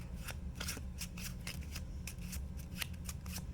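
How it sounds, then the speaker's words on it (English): Playing cards riffle and slap in quick, irregular bursts as they are overhand shuffled by hand, close and crisp, with no talking. "I'm going to do an overhand shuffle to help try to mix up these cards."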